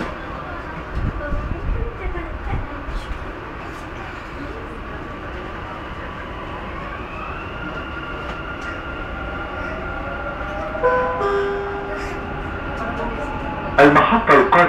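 Dubai Metro train running. A steady rumble of the carriage rolls along with rising whining motor tones as it travels. Near the end comes a burst of clatter, and a voice announcement is heard over the ride.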